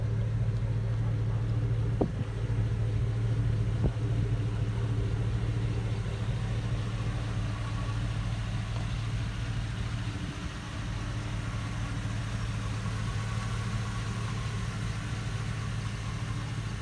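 A 2006 Chevrolet Avalanche pickup truck engine idles steadily with a low, even rumble and hum, close by and unbroken, with a couple of faint clicks early on.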